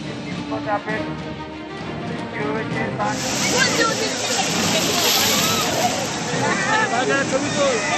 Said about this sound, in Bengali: মন্দারমণিতে ফুঁসছে সমুদ্র, দীঘাতেও একই ছবি